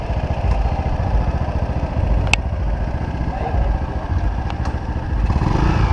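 A motorcycle engine runs steadily close by, a loud low chugging idle with a few metallic clicks and clatters, and a voice talks over it briefly.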